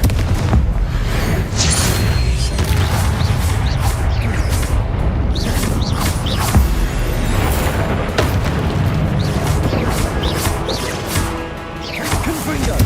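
Confringo explosive spell in Hogwarts Legacy: dense, loud booms and crashing blasts roll on without a break amid chaotic combat, under voices shouting.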